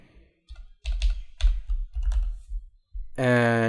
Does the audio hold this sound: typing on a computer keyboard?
yes